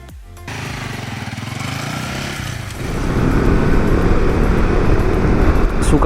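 A Honda CB150X motorcycle engine is heard close up while riding, a steady buzzing drone that steps up louder as it accelerates partway through.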